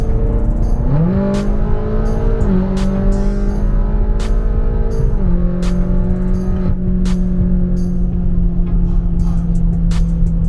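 A pickup truck fitted with an aftermarket intake pulls hard from around 40 mph, its engine note climbing loudly through the gears with brief dips at each shift, steady and close with no talking.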